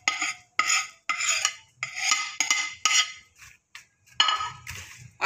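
A spoon scrapes and clinks against a pan while panjiri is mixed with ground dry fruits and ghee, in repeated bursts of gritty stirring separated by short pauses, close and fairly loud.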